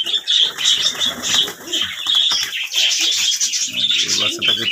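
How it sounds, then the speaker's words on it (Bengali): Pigeons feeding together flap their wings in repeated bursts, close and loud, mixed with soft cooing and chirps and occasional faint background voices. "এই সমস্ত কবুতরগুলো যখন এক জায়গায় খেতে আসে"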